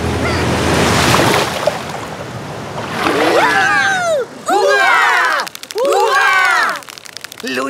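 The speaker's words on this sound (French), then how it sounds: "Deuxième vague en vue." An ocean wave surges and crashes against a toy stone castle with a loud rushing whoosh, followed by swooping, chattering cartoon-like voices.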